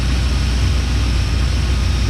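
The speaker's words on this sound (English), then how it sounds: "It's sitting here idling." A 1980 Corvette engine with a new intake and carburetor idles steadily and loudly up close, its low rumble continuous and even throughout, with no voices.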